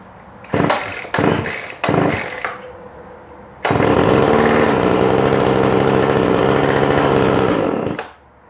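A Craftsman weed trimmer being started on half choke: three short pull-cord sputters, then the small two-stroke engine catches and runs loud and buzzing for about four seconds before dying down.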